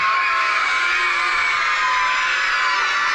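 A crowd of children shouting and cheering in unison to support a crew flying toward a space station, a loud, dense, sustained roar without pauses.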